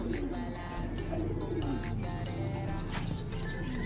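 A blue bar pigeon coos close by in a steady murmuring run of low calls, with faint rustling and a few light chirps in the background.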